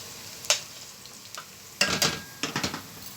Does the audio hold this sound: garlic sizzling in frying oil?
yes